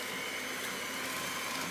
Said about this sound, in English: So straight in with the whisk, put the whisk right in the middle on the base.